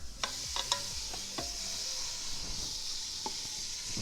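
Tri-tip searing in olive oil inside a Ninja Foodi: a continuous soft sizzle with scattered close clicks and scrapes, fairly quiet.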